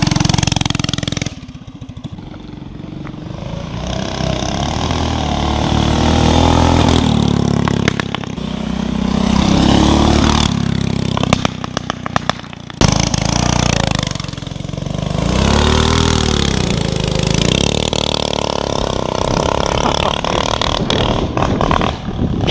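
Small go-kart engine running steadily and loud close by, its buzzing drone rising and dipping in pitch as it is revved for about twenty seconds.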